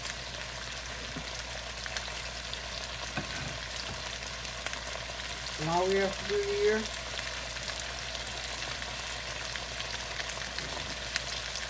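A steady, hissing sizzle of potatoes, hot from the microwave, frying in a pan runs throughout, with a voice speaking briefly partway through.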